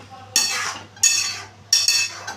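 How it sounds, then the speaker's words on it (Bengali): A spoon scrapes through a potato and pointed gourd curry in a pan in three close, sharp strokes about a second apart, each trailing a soft wet rustle, with no talking. "একটু ভালো করে মিশিয়ে নিচ্ছি।"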